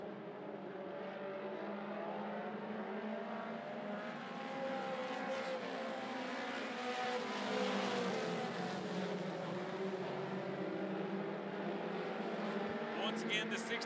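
Mini stock race cars roar around a motor speedway in a continuous pack, engines droning loudly and swelling as they pass, with a race announcer talking over them.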